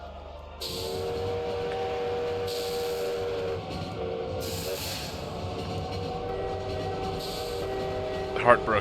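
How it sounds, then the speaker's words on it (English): A train in the video game Lobotomy Corporation sounds a sustained horn-like chord in several long blasts with short gaps, over a steady rumbling bed, close and fairly loud. "I forgot about the train again."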